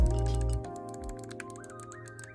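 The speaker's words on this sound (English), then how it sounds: "the controller sounds like mouse clicks with these buttons" Clicky B button on a wired game controller pressed repeatedly, sharp rapid ticks like mouse clicks over a loud sustained background tone, close to the microphone.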